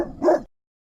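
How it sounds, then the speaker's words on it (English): A single short dog bark rings out alone, loud and close, then drops into silence. "Dog."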